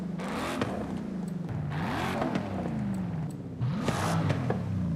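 In Forza Horizon 5, a car fitted with a sport exhaust and Coyote rasp revs in three rising bursts, a raw, throaty engine note that climbs and drops with each throttle blip, heard alone and up close.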